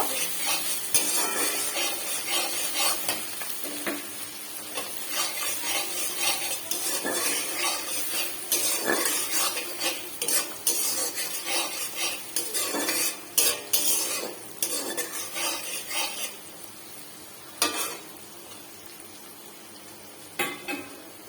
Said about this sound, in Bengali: এখন আমি এর মধ্যে অ্যাড করব জিরের গুঁড়ো আবার একবার নাড়িয়ে নেব